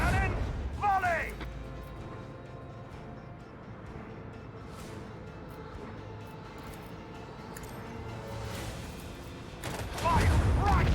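Starship macro cannons fire a volley in a space combat video game: a dense barrage of booming blasts that swells near the end, with someone talking over the gunfire.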